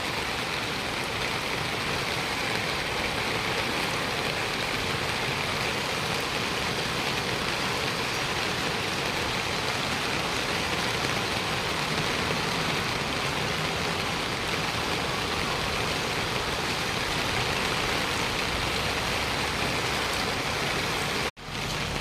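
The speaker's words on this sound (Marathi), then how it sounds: "वरतून पाऊस पण जोरात चालू आहे" Heavy monsoon rain pours down on a flooded road in Pimpri Chinchwad, a loud, unbroken roar of falling water that stays constant for about twenty seconds before cutting off.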